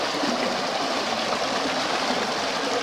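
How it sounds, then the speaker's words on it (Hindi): Water gushes from a village tubewell in a loud, steady, close-up rush, a dense continuous splashing flow with no pauses and no voices. "ये ट्यूबवेल लगा हुआ है"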